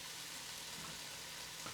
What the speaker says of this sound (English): I'm just gonna saute these just for a few minutes